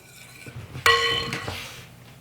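A utensil stirring wassail in a pot gives a bright metallic clink against the pot's side, followed by a second fainter clink and soft scraping, close and alone in a quiet kitchen.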